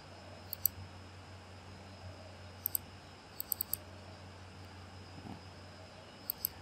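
Computer mouse clicking in a room-design app: faint, sharp click pairs recurring several times, like double-clicks, over a low steady hum with no talking.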